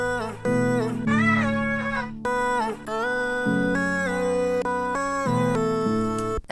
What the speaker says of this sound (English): Alright guys, so I came up with this beautiful vocal chop melody,